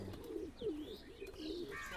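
Teddy pigeons cooing at a pigeon sale: soft, low, throaty coos come in repeated rolling phrases close by, with a faint higher chirp now and then and no speech.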